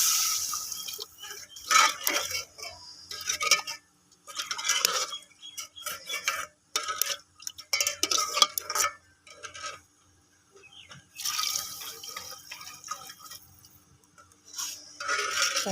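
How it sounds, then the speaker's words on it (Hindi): Spice masala for Arabic rice being stirred in a pot after water is added, with intermittent scraping and clinking of a utensil against the pan in short bursts, no voices. "इसमें हम पानी ऐड कर देंगे।"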